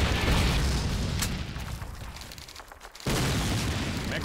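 A grenade goes off in the World War II shooter Call of Duty 2, a sustained low boom and rumble that fades, then a second burst of noise hits abruptly near the end.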